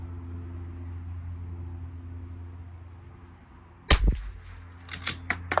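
A Bergara B14R rifle fires during an ammunition test: a sharp, loud crack breaks a low steady hum, followed about a second later by a quick cluster of smaller snapping reports.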